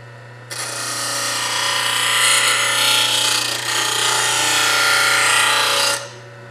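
A plane blade's primary bevel is ground against an abrasive in a loud, continuous, gritty rasp lasting about five seconds, starting and stopping abruptly over a steady low motor hum.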